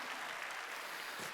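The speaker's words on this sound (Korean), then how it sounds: "박수." Brief, faint burst of congregation clapping during a Sunday worship service at a Korean church, a soft, even patter heard from a distance.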